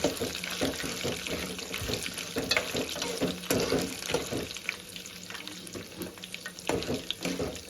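Dried red chillies, about four, fry in hot tempering oil for tamarind pulihora, giving a steady crackling sizzle with scattered pops and occasional stirring clinks, close and moderately loud.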